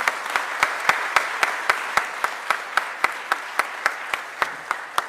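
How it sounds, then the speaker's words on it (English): Audience applause for Philadelphia's newly appointed prisons commissioner, a steady run of evenly spaced claps heard fairly close, with no talking over it. "Give him a huge round of applause."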